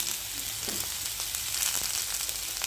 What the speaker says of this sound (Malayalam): നമ്മൾ അരിഞ്ഞു വെച്ചിരിക്കുന്ന ചെറിയ ഉള്ളി ഇതിലേക്ക് ഇട്ട് കൊടുക്കാവുന്നതാണ്.